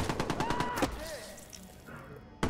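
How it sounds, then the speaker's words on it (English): Enemy gunfire in the video game Watch Dogs crackles in rapid bursts of shots at the start, then fades to quieter game ambience before a sharp loud hit at the very end. "They open fire."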